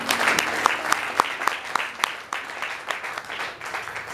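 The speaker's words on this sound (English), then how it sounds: "Clap your hands and give God praise." A church congregation claps its hands in praise, a fairly soft spread of scattered, rhythmic handclaps with a few sharp accents and a faint voice or two in the background.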